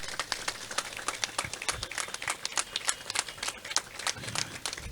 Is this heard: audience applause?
yes